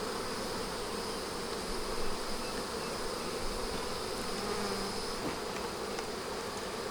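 Honey bees swarm around an opened beehive, their dense, continuous buzzing steady and close, with no voices over it.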